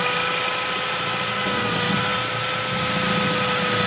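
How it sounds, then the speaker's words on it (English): A power drill bores through a steel roll bar mounting plate during budget rallycross prep on a Mustang, giving a steady, loud, gritty whine with a high metallic edge that holds for several seconds without talk. "Drilling our roll bar mounting plate here."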